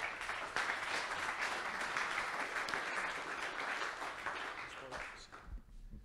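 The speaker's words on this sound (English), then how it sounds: "Round of applause." A steady, dense round of clapping from a showcase talk audience, fairly faint and distant, holding evenly before tailing off at the end.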